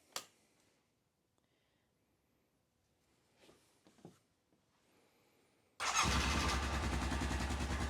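A Honda Rincon ATV with a cleaned carburetor, adjusted valves and fresh fuel, previously lacking power, gives a few faint clicks and cranks, then abruptly fires up and runs loudly and steadily at close range.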